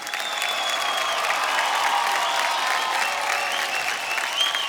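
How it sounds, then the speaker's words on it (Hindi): A studio audience at a folk singing reality show claps loudly and steadily for a performer, a dense sustained applause that holds for the whole stretch with faint tonal music or voices underneath. "मांझी बारिक के लिए जोरदार तालियां."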